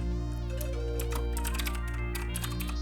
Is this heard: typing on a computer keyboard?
yes